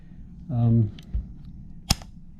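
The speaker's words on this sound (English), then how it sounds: "Make sure it's cocked here. To be able to release it, we have to pull the magazine out" A Ruger PC Carbine 9mm semi-auto rifle's cocked action is released with the magazine out, giving one sharp metallic clack after a short voiced murmur and a faint click.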